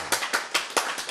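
Audience clapping during a church lecture, five quick, sharp claps in a brisk rhythm, close and crisp, over a quiet background.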